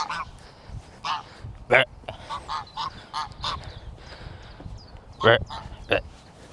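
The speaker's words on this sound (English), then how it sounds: "Look, I found ducks or geese or whoever these are." Geese honk repeatedly nearby in short, loud calls, several overlapping in quick bursts against a quiet outdoor background.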